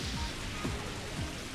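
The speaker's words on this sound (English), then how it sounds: "you're gonna use Rain Dance" The Rain Dance move in Pokémon XD: Gale of Darkness brings a steady hiss of falling rain, with a few soft descending swooshes in the background and no talking.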